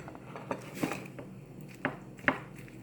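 Albacore tuna salad being stirred in a bowl gives a handful of soft, close scrapes and clinks of a utensil against the dish at an uneven pace, with short quiet gaps between them.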